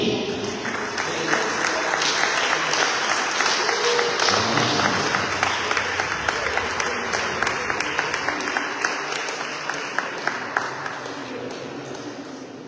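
A crowd applauds the first-, second- and third-place prize winners at the Sardinian Veterans Alghero 2025 award ceremony. The clapping is loud and dense at first, then thins into scattered individual claps that fade toward the end.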